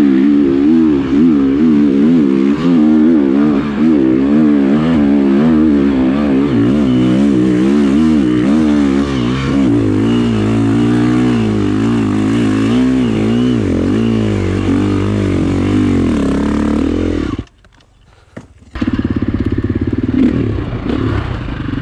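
Enduro motorcycle engine on a rocky trail, loud and close, revving and surging in wavering pitch as the rider picks through rocks, then briefly cutting out before rumbling back.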